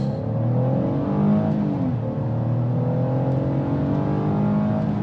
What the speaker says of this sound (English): So we can try and do a 0 to 60 right here, and we'll just do 0 to 50 maybe, but that's floored.